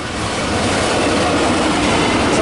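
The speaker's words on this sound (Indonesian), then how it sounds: "memantau kereta cepat jarak jauh di area Cimekar yang pada ngebut" Long-distance express train speeding past Cimekar station: a loud, dense continuous roar of wheels and carriages rushing close by, steady throughout with no voices.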